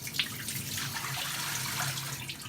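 Tap water runs steadily and splashes nearby as a water filter housing is rinsed out, a continuous close wash of liquid with no talk.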